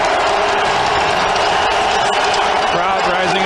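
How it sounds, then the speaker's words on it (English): A big football stadium crowd roars steadily at a CFL game, the Saskatchewan Roughriders at the Winnipeg Blue Bombers, a dense, loud wash of cheering that holds for a few seconds with no pause. "Crowd rising up again."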